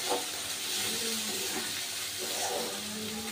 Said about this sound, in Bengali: পেঁয়াজ আর রসুনটাকে আমি একটু ভালো করে ভেজে নেব